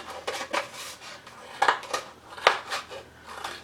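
Scissors snip through the knit brim of a beanie being made into a snowman ornament, giving a run of crisp, close metallic cuts and clicks at an uneven pace.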